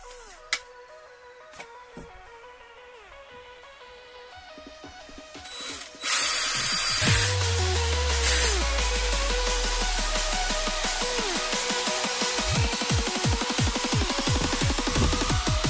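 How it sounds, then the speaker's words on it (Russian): Power drill boring a hole into a wooden MP5A3 submachine gun replica to fit a front sight; a loud, steady whirring drone starts after a quiet mechanical stretch and runs continuously to the end, close and alone without talk. "Сейчас надо просверлить отверстие под нее"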